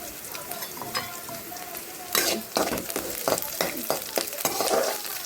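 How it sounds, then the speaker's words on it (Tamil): Sliced onions sizzle and fry in a pan while being stirred for a Kerala-style avial, a steady crackle broken by louder scraping stirs of a spoon against the pan, close and clear. "எங்கள் வெங்காயம் ஃப்ரை ஆகுது"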